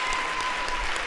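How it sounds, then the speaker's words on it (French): A church congregation claps continuously in a dense, steady burst of applause that fills the whole moment without a pause. "Acclame bien."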